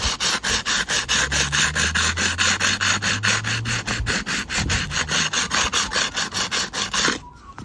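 A diamond hand pad is rubbed back and forth along the edge of a glass or ceramic mosaic tile, giving loud, close, regular rasping strokes that stop abruptly at the end.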